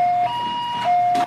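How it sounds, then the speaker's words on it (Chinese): An ambulance siren arriving at the scene of a late-night road crash, sounding a loud, steady two-tone wail that alternates between pitches with a brief higher burst at the end. "救护车赶到，把撞伤的女生赶紧送医。"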